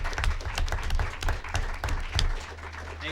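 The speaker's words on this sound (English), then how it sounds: "one more round of applause for all of our Clarion staff" An audience at a school staff recognition event applauds, a steady mass of hand claps at moderate volume from a crowd, tapering slightly toward the end with a low background hum.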